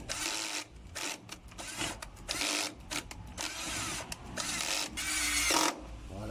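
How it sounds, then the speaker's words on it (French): A screw being tightened on the carburettor of a Jinlun JL125-11 motorcycle, heard as a busy run of close mechanical ratcheting and clicking bursts with short gaps, steady and fairly near. "un petit serrage de cette vis"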